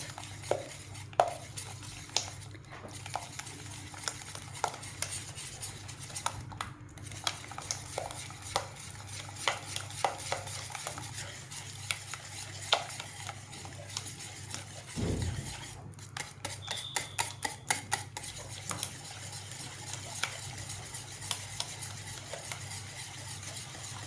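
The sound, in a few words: stirring cheese into cauliflower béchamel sauce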